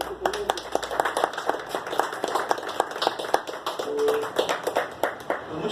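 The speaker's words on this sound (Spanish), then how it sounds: "Quiero un aplauso para nuestro ponente." An audience applauds a guest speaker at a talk, with a steady patter of handclaps running for several seconds and a voice speaking briefly over it.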